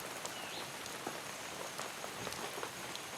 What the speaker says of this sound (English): Up to 8 meters of rain can fall here between September and December